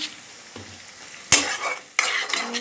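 Vegetables sauté in a pan for mayonnaise white pasta, a close, steady sizzle broken by two sharp bursts as they are stirred and tossed, with faint utensil scrapes and no talking.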